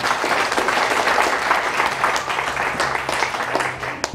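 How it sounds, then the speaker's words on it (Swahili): A church congregation claps for Jesus with steady, dense applause throughout, close and loud, with faint voices underneath. "Hebu tupige tena Bwana Yesu makofi."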